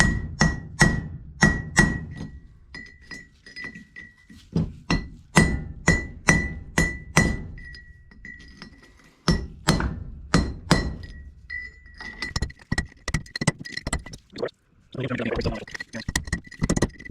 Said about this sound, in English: Hammer and a chisel, or a hammer and a punch.